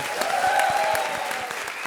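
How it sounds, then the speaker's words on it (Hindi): Brief burst of steady audience clapping for comedian Krishna on a Hindi comedy stage show, with individual claps standing out over a continuous wash, no speech. "भाई, एक बार जोरदार तालियां हो जाए कृष्णा के लिए।"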